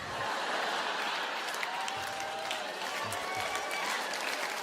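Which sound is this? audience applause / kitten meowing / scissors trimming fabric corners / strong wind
audience applause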